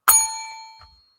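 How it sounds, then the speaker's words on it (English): A single bright metallic bell strike, loud and close, ringing out with a clear tone that decays over about a second, alone. "Hit the bell."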